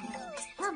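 A dog gives a short, high whimpering yip, brief and fairly close.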